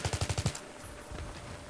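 A rapid burst of about six automatic gunshots rings out in the Battlefield 3 video game, loud and close, before quieter game ambience takes over.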